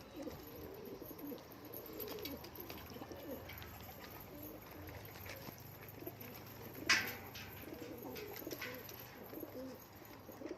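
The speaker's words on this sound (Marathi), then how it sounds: "बघू शकतो पाणी वगैरे पितेच कबूतर" A pigeon coos softly and steadily in a quiet spot, low and fairly distant, with one brief sharp knock partway through and no voices.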